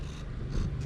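A cat purrs close by, a soft low rumbling pulse lasting under a second, faint and alone.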